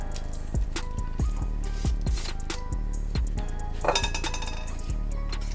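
Clams dropped one after another into a pot of clam chowder with heavy cream and bacon, a series of sharp clinking shell knocks against the pot at an uneven pace.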